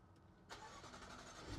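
A 2020 Jaguar F-Pace SVR is started remotely: after a short quiet moment, the engine catches with a sudden loud burst and settles into a steady, throaty idle nearby.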